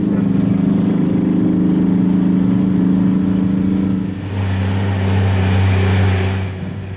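A British-built 1950s locomotive engine bound for Spain runs with a loud, steady droning rumble that shifts to a deeper, heavier tone partway through, with no voices.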